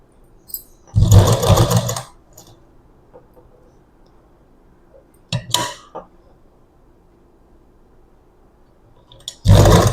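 Sewing machine stitching puff sleeves for a garment, running in three separate bursts: a loud two-second run, a short stutter near the middle and a final burst at the end, with quiet gaps between.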